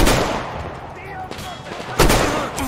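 Gunshots ring out in a third-person action game, a loud close burst at the start and another sharp crack about two seconds later, with echoing reverb and battle noise between.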